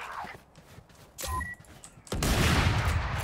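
Gunfire in a first-person video game: sparse thuds and clicks, then a sudden loud burst from a shotgun close by, and a dense, sustained blast that carries through to the end.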